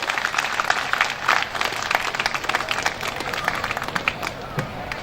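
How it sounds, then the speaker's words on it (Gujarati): Audience at a Bhagavad katha gathering applauding the women volunteers, a sustained burst of many hands clapping with a murmur of crowd voices underneath. "બહેનો માટે ખૂબ તાળીઓ થઈ જાય."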